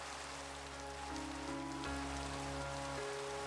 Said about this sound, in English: the rain sound is from where the rain hits the ground.